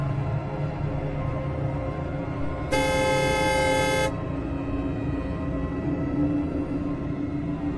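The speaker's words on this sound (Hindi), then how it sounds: "उसके उतर जाने की उम्मीद में मैंने हॉर्न बजाया।" A car horn gives one sustained honk of about a second and a half, loud and near, over a steady low rumble in an animated story scene.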